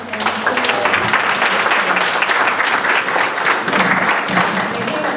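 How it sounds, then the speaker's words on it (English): Audience at a Black History Makers event celebrating Malcolm X applauds its responders, a loud, dense, sustained round of clapping from a large crowd that holds steady throughout. "can we give a big round of applause to our responders?"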